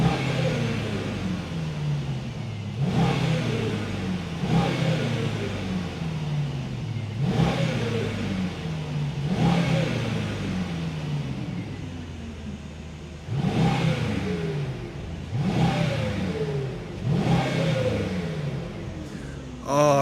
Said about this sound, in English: Now you will hear the V8.